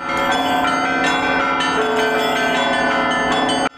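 Church bells peal loudly and continuously on an early morning as a reliquary is carried to a cathedral, with overlapping strokes ringing out steadily and no talking.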